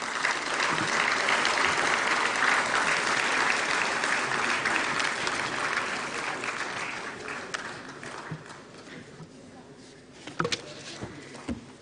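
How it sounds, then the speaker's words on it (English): Sustained audience applause fills a government award ceremony hall, steady and dense for most of the stretch before gradually thinning out, with a few sharper individual claps near the end. "Kindly keep the applause going."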